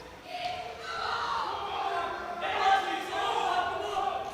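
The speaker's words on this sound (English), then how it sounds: "Plenty of support from the crowd here." Crowd support at the IPF World Open Classic Powerlifting Championships, men's 105 kg class, during a heavy squat attempt: a sustained, fairly loud wash of cheering and shouting from a hall audience that swells toward the end.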